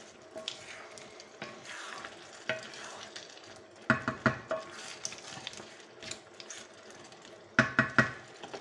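Homemade paella with mussels sizzles in a pan while a spoon stirs it, with repeated scraping and clinking strokes in uneven bursts over a steady frying hiss, close and fairly quiet.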